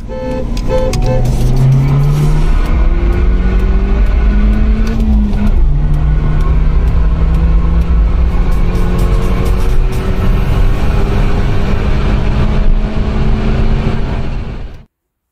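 A stage 3 tuned BMW 1 Series 114i accelerates hard from 70 to 170 km/h. The engine roars loud and close, its pitch climbing steadily, with a gear change partway through before it pulls on to the end.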